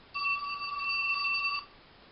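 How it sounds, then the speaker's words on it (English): Telephone ringing with an incoming call in a room, a steady electronic ring tone holding for about a second and a half, then stopping, with no talk over it. "hang on, I got a phone call"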